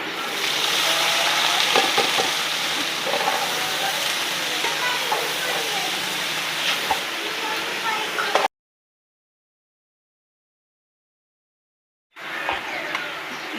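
Onions sizzle loudly and steadily in oil in a pan for bhendi masala, with occasional stirring clatter. The sound breaks off into silence for several seconds, then resumes.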